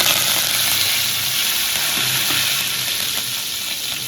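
Loud, steady sizzling and crackling of leaves frying in hot oil, close up and continuous throughout, with no voices.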